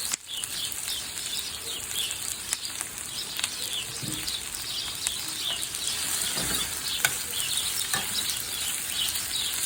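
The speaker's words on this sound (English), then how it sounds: "we're gonna add the meat right now to get all that flavor from the onions and brown it a little bit too" Beef brisket browning with onions in a pan, a steady close hiss of sizzling fat with occasional scraping stirs and soft pops throughout, no talking.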